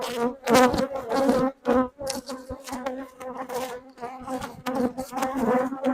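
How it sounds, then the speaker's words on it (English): Honey bees swarm thickly in an opened beehive during a honey-store check, a loud, close, steady droning buzz with wavering pitch that swells and dips continuously and stands alone without speech. "Now, I don't know if you saw the amount of bees that's in here"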